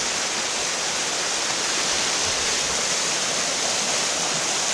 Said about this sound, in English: So here's kind of the first little set of rapids here as we head towards the Susquehanna River.